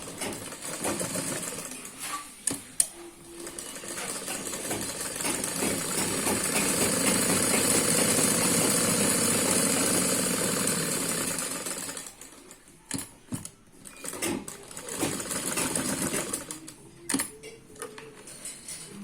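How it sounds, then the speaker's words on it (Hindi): A sewing machine stitches the fabric of a long umbrella frock, running in a steady mechanical whir that swells in the middle and breaks into shorter bursts with small clicks near the end, close and clear with no talking. "फिर हमें यहाँ पे 1/2 इंच का कपड़ा छोड़ते हुए सिलाई कर लेंगे"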